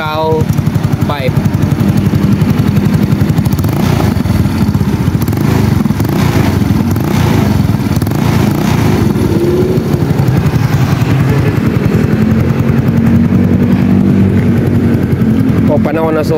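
A Yamaha Mio scooter fitted with a new Kao aftermarket muffler, its engine running loud and close with a steady buzzing, crackling exhaust drone throughout.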